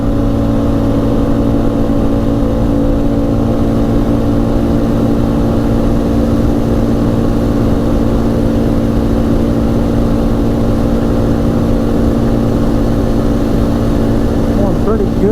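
A 2004 Polaris Scrambler 500 4x4 ATV drives at speed, its engine a loud, steady drone with a constant hum throughout, and a voice talking over it.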